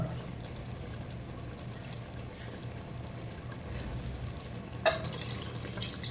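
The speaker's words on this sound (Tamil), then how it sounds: "தண்ணி ஊற்றிடலாம்" Water is poured into a pot of mutton dum biryani as it cooks, giving a steady, close splashing and sizzling wash with a sharper burst of pouring near the end.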